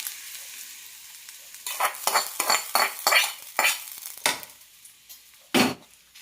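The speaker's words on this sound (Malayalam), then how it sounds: "നന്നായി മിക്സ് ചെയ്യാം." A spoon stirs mustard seed, curry leaf and red chilli tempering into ash gourd pachadi, giving a series of sharp scraping knocks against the pot, irregular and close, over a faint background.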